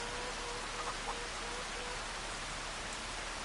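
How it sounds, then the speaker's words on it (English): Steady rain patters evenly and continuously in Farming Simulator 25 on PS5, an unbroken hiss of falling drops with no voices over it. "Rain again?"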